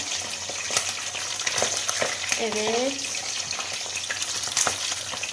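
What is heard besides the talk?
meatballs (köfte) frying in a pan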